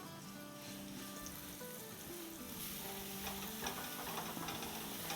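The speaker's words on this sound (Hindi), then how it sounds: "इसमें जाएगा 1 टेबलस्पून लहसुन का पेस्ट, थोड़ा सा सौटे करेंगे" Garlic paste sautés in hot oil in a pan, a faint, steady sizzle with light crackling and occasional soft stirring ticks throughout.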